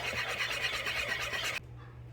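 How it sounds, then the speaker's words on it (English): Cake batter for an orange upside-down stovetop cake is whisked briskly in a bowl, a fast rhythmic scraping swish close by, continuing steadily before stopping abruptly. "Yep, whisk it for a while."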